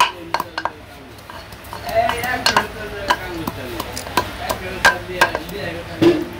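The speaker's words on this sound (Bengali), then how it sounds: "আমরা ডাল রান্না করব এর জন্য আদা সিস্তাছি" Ginger being crushed on a stone for dal in a village kitchen, giving a series of sharp, irregular knocks and grinding thuds, close and fairly loud, with people talking over it.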